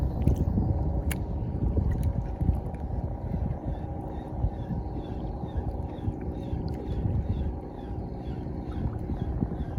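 Steady strong wind rumble over the microphone with water lapping and splashing from paddle strokes of a small boat while fishing, continuous and close.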